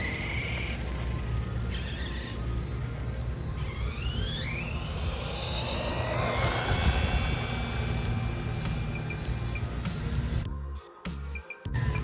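An Arrma Big Rock RC truck makes a speed run outdoors, its high electric motor whine rising in pitch as it accelerates, passing close, then fading as it drives off, steady and fairly loud.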